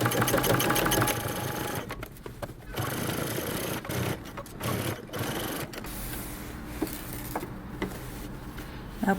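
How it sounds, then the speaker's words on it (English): Sewing machine topstitching around the waistband of homemade jeans, a steady mechanical chatter running in bursts with brief pauses, moderately loud and close, with faint talk in the background. "Now top stitch all the way around your waistband."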